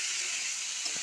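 Turmeric and salt frying in a pan with potato and carrot while cooking chira pulao, a steady soft sizzle and hiss with a faint stir near the end.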